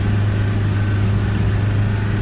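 Minibus engine in the Fernbus driving game, the DB40, revving hard with a steady low droning hum throughout, loud and continuous with no talk.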